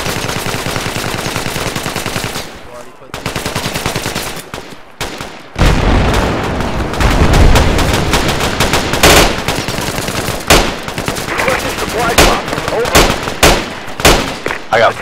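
Heavy automatic and single-shot gunfire in the tactical military shooter game Project Reality, set in Afghanistan, loud, close and in rapid bursts with short pauses, some sharp isolated cracks and a booming low rumble.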